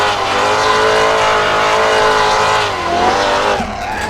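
A truck drifting in a driving game with the handbrake pulled, its engine roaring at high revs as tires skid and squeal continuously, loud and close, easing off briefly near the end.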